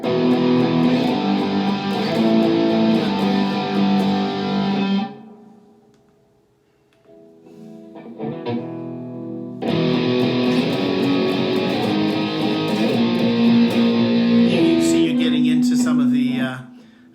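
A heavily distorted electric guitar through a Fender Mustang Micro headphone amp plays chunky metal riffs in two bursts, separated by a short quiet gap with a few faint notes.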